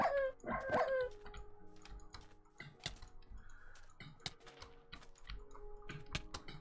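Dog mob in a video game: a short whining howl and barks at the start, then sharp computer-keyboard clicks scattered through a quiet stretch.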